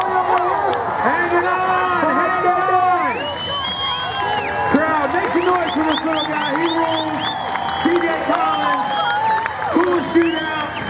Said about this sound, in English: You got a whole crowd cheering for you